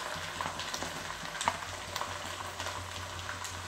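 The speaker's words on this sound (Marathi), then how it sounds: "तर आपल्याला मेथी ना शिजून घ्यायची" Fenugreek leaves cooking in oil in a pan give a soft, low sizzle with occasional light spatula scrapes and small pops, faint and close, with no voices.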